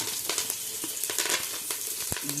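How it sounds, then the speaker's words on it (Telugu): Onion and curry leaves fry in hot oil, with crackling spatters and sizzling pops scattered irregularly above a soft, steady hiss, close by. "ఆయిల్ చట చట మీదకి ఎగురుతుంది"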